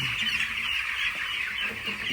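On the eleventh day of a flock of young chicks, chicks and chickens on a farm cheep and cluck continuously in a dense, even chorus of high peeping, steady and fairly loud with no speech.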